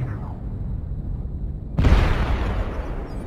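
An incoming missile hits in a mech game, a sudden loud explosion that cuts through a low ambient hum, with a deep boom and a bright blast that slowly decays into rumble.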